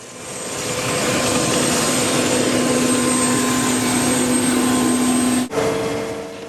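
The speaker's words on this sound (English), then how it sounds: "That's the president's Marine One helicopter." A loud, steady roar of the US president's Marine One helicopter in France, with a droning engine whine, continuous and close, dipping briefly near the end before resuming.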